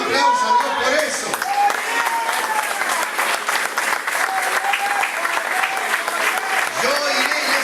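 A church congregation applauds in a steady, full wash of clapping for several seconds, with voices calling out over it and a few shouts rising above the hands.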